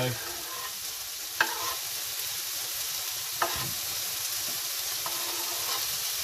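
Capsicum and bacon fry in a pan with a continuous close sizzle and hiss, broken by a couple of clear stirring clinks.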